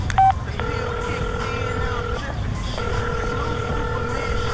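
A phone is dialed to call someone: one short keypad tone, then two long steady ringback tones separated by a pause, over a low rumbling background.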